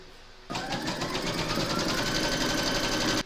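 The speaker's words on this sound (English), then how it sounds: "Load your file into your machine and then you're going to stitch round number 1" An embroidery machine stitching the first round, a placement outline for batting on a watermelon coaster, gives a steady, fast mechanical whir and rapid needle chatter that starts abruptly and runs evenly for about three seconds before stopping.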